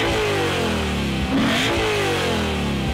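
A 2018 BMW M4 CS engine holds a loud, steady drone heard from the cabin, briefly swelling as the revs rise midway and again at the end.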